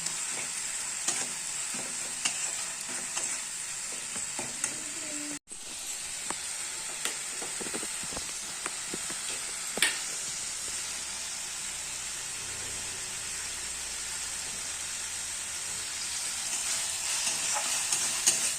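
Potato curry ingredients with spices and salt stirred and fried in a pan, a long continuous sizzle with scraping stir sounds, close and steady, briefly cut off once.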